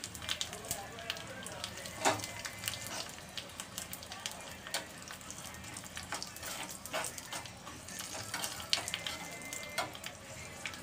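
Cumin seeds and three green chillies sizzle steadily in hot oil for a dhaba-style chana dal tempering, a continuous close crackling hiss dotted with sharper pops and the occasional clink.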